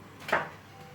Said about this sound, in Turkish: Tenceremizin ağzını kapatıyoruz.